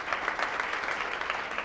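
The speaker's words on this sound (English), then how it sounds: "So a round of applause for this guy" An audience at a business talk applauds with dense, continuous clapping, moderately close and steady throughout, without any voices.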